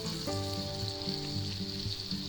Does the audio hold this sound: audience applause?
no